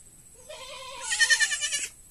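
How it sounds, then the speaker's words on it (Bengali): A goat bleats once, close and clear, with a quavering, rising call lasting over a second against a quiet background. "এই যে এই ছাগলটা দেখেন"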